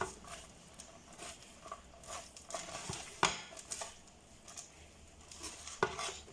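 A chicken, onion and almond filling for Moroccan pastilla is stirred and folded in a pot, with soft continuous scraping and patting plus a few sharper clinks of a utensil against the pan, close by.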